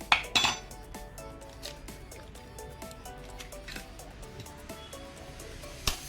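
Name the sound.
eggs being cracked into a bowl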